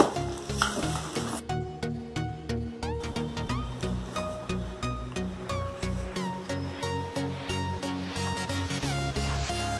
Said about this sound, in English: here is the self stirring cup